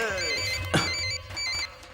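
A telephone rings in a Hindi film scene, giving repeated electronic ringing tones over a background hum, with one sharp swooping noise cutting across midway.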